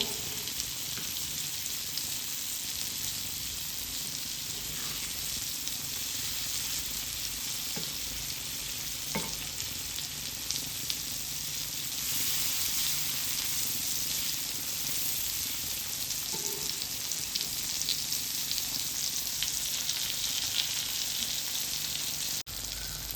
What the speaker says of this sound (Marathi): तर पापलेट फ्राय आहे ती तयार झालेली आहे.